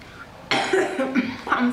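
One sudden, close cough, followed by a few quieter throaty sounds, during an eating session with a chicken burger and hash browns.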